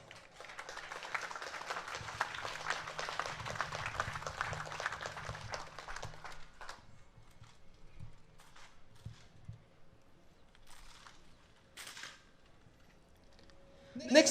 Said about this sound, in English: Please give Len a big round of applause.